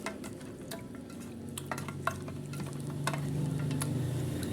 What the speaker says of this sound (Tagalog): Lalagyan natin siya ng pamintang durog. Tapos hahaluin natin.